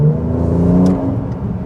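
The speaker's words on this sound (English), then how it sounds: "Let's just have a little blip." A Mercedes-AMG C43 with 400 hp, set to Sport Plus and warmed up, gives a short exhaust blip: a loud, close engine rev that swells and then eases back down.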